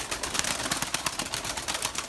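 Erzurum white pigeon squabs in a loft, soft rapid cooing and faint rustling at close range, with no talk.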